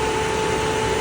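A 2016 Cadillac CTS 2.0 engine running steadily in a garage with a window open and an exhaust vent, a constant loud hum with a faint whine, no talking.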